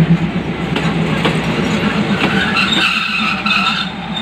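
An Express 77 diesel railcar train rolls into Bang Sue station in Bangkok, Thailand, with loud rumbling wheels, clacking rail joints and squealing brakes close by.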